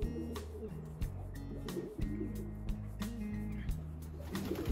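Trained racing pigeons coo steadily in a loft, a low rhythmic burbling repeated throughout with a few brief sharper bird calls layered on top at close range.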